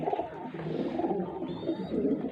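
Pigeons coo softly in low, throaty, overlapping murmurs, close by, with faint background noise.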